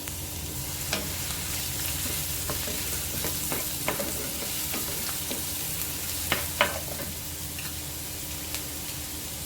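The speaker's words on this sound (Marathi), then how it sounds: "गॅसवर पॅन ठेवलं आहे मी त्यात एक चमचा तेल टाकते त्याच्यावर एक कांदा टाकते" Chopped onion fries in a spoonful of oil in a pan for paneer bhurji, a steady close sizzle with occasional light clicks and taps of a spoon stirring.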